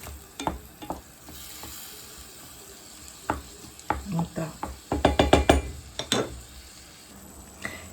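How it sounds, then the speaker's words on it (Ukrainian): Tomatoes and minced meat are stirred and stewed in a pan: a soft sizzle runs beneath scraping and clinking of a utensil against the pan, with a rapid cluster of stirring clanks near the end. "ми все це діло перемішуємо і хай воно трішечки протушкується."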